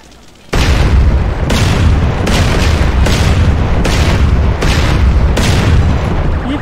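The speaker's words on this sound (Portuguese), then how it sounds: "É tanta explosão." Continuous rumbling blasts of explosions in a GTA game with an Aquaman mod, loud and dense, with several distinct booming bursts rolling into one another for about six seconds after a sudden start.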